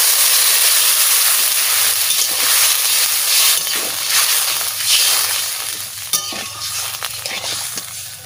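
Water poured into a hot pan of curry with chili powder, cooking banana flower and egg tarkari, raising a loud continuous steamy hiss and sizzle, with faint stirring clatter near the end and no talking.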